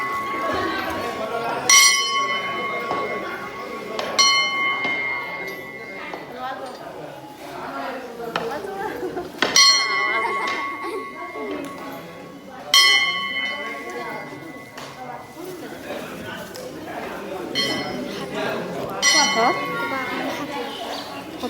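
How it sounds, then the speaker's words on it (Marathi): A temple bell rings out clearly several times at irregular intervals, its metallic tone lingering, amid a crowd of chattering voices nearby inside a temple. "घंटा वाजवायचा काय तो बघ मी दाखवते"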